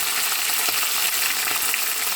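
Small onions, garlic and curry leaves sautéing in a pan, a steady crackling sizzle filling the short stretch with faint stirring movement underneath.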